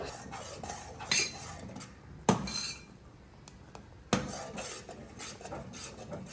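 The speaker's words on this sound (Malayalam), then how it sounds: "കുറച്ച് ഒഴിച്ചിട്ട് നമുക്ക് ഇളക്കിയിട്ട് എന്താ വീണ്ടും ഒഴിക്കുക" Metal utensils clink and scrape against a pan in several sharp strikes amid steady stirring clatter as custard is cooked in milk, close by with no talking.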